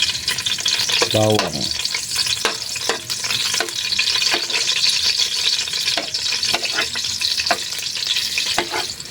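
Garlic fries in hot oil in a pan for chicken adobo, a loud continuous sizzle broken by repeated scrapes and stirring strokes from a utensil, close up.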